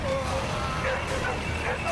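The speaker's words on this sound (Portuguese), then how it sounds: "é o cachorro" Short dog barks and yips sound amid busy game noise from the game Corações Valentes, with a voice speaking over them.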